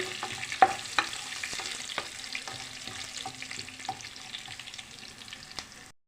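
Spices and small onions tempering in hot oil in a pan for tomato dal, a steady soft sizzle with light scraping stirs and small clicks of the spoon, no talking.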